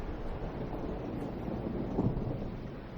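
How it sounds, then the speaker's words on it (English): Thunder recorded in the field for use in a heavy dubstep track, a steady low rumble that swells slightly near the end with no voices over it. "this thunder that I recorded"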